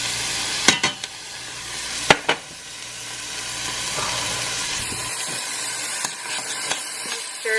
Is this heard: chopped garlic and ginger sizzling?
yes